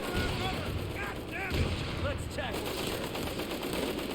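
Dense gunfire from Company of Heroes 3 on PS5, soldiers shooting up a stairwell, rattles continuously through dense battle noise, with voices talking over it.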